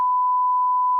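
A single steady censor beep, a pure mid-pitched tone held loud and unchanging for about a second, starting and stopping abruptly.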